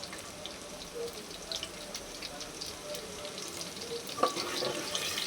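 Small onions sauté in a pan for fish curry, a soft, steady sizzle with faint crackles and occasional stirring clinks, low and close.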